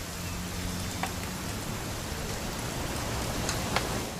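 Rain falls in the video game What Remains of Edith Finch, an even hissing downpour on surfaces with a few faint drip ticks and no voices.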